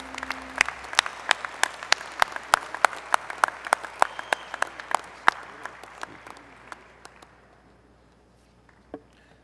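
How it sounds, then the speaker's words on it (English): A crowd at a college commencement applauds graduates steadily, the clapping fading out gradually before a single late clap. "Please join me in a round of applause for all our graduates from Plant and Soil Science."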